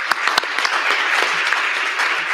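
Audience applause at the Valero Alamo Bowl team announcement, a dense, steady clatter of many hands clapping that fills the room throughout with no break.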